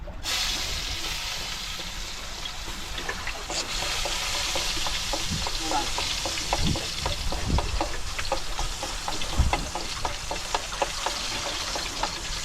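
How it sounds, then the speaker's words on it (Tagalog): Onion and garlic sauté in a pan over a steady, close sizzle, with repeated scraping and knocking strokes from a ladle stirring throughout. "magisa tayo ng sibuyas at saka bawang"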